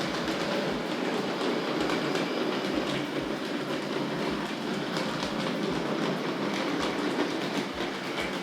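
A Tri-ang R.152 diesel shunter model locomotive pulls tank wagons around a model railway track with a steady, soft rolling rumble and faint rhythmic wheel clicks, continuous and fairly quiet, with no voices.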